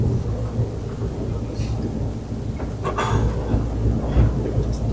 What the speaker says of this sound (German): Das regnet jetzt, ne?